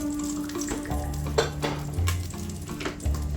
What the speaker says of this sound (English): You're going to add 2 tablespoons of butter into here.